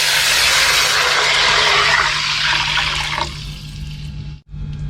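Plain water is poured into a cooking pot in one loud, close, rushing gush that slowly tapers off, ending in a brief break and a little splash, with no talking.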